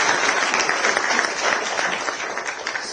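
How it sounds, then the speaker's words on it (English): A large audience applauds the Indian Air Force at a political address, dense steady clapping filling the space at a constant level, with a few indistinct voices beneath it. "I would like all of you to give a great round of applause for Indian Air Forces."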